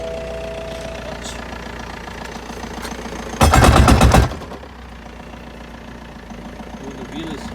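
Loose propshaft on a BMW after a clutch change, clunking hard in first gear: one loud rattling burst of rapid knocks lasting about a second, over a steady idling engine, with no talk.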